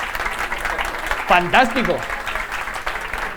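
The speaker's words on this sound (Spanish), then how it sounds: "Quiero que le deis un gran aplauso" An audience at a popular-science talk applauds in a steady wash of clapping while a voice briefly speaks over it.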